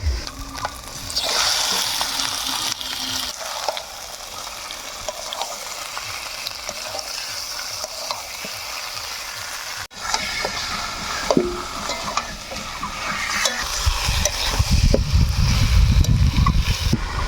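Chicken pieces are added to a cooked-down spice paste with taro leaves, and a loud, constant sizzle of frying is heard close up while a spoon stirs and scrapes the pan.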